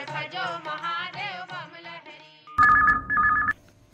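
A telephone rings for a Chhattisgarhi song request radio phone-in, a loud electronic warbling tone lasting about a second after a stretch of singing and music.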